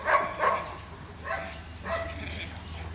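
Young dogs barking and yelping during protection training with a helper, several short bursts of barks a few at a time, close by over steady background noise.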